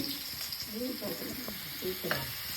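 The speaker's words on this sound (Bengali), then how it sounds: "বেগুন ভাজা হচ্ছে" Brinjal (eggplant) slices fry in a pan with a steady close sizzle, broken by soft stirring and scraping knocks throughout.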